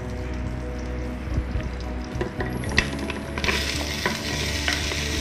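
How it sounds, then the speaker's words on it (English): Garlic and French beans sizzle steadily in the hot pot of an electric pressure cooker on its stir-fry setting, with scraping stirs and a hissing rise in the second half, close and continuous. "stir fry to brown your garlic. And when the garlic is brown, add in your French beans."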